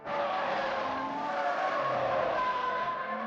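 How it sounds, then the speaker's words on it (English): A car drifting through a turn on the handbrake, tires skidding in a loud, sustained squeal over the engine for several seconds, with no voices. "The man's drifting relied on the handbrake"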